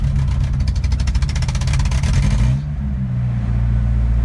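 A 1986 Toyota Pickup with a 22RE engine idles close up, loud and rough with a rapid uneven pulse that stumbles from a slight misfire, then settles into a smoother, quieter low rumble.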